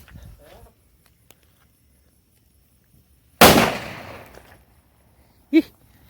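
A firecracker goes off near a São João bonfire on a country farm, one sharp, loud, close bang with a short crackling decay. Quiet stretches and faint voices come before it, and a brief sound follows.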